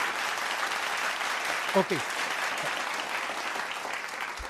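A studio audience applauds during a Filipino radio broadcast, a soft, even patter of clapping that holds throughout, with one brief spoken word partway through.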